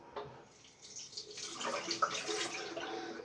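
Tap water runs to rinse a Shavette razor between shaving passes, a soft splash that rises into a steady close stream with small drips and clinks, no talk.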